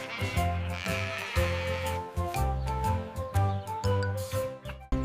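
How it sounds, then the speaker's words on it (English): Sheep bleating in a children's animated farm-animal lesson, a series of quavering cries repeated over a few seconds against a tinkly musical bed, fairly loud and close. "The sheep gives us soft wool."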